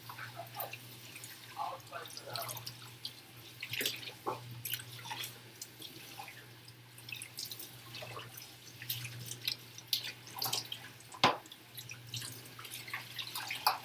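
Water drips and splashes in a kitchen sink while dishes are washed, scattered wet plops and trickles at an irregular pace over a steady low hum, quiet and close.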